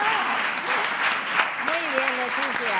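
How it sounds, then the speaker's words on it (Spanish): Lecture audience applauding a newly graduated cum laude doctor, a broad continuous patter of many hands, with voices talking over it at moments. "se merece un aplauso"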